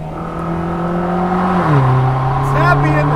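A Vanderhall Laguna roadster driving with no windows, its loud engine droning steadily, then dropping in pitch as it shifts, with wind and road noise close around.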